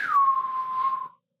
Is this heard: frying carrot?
no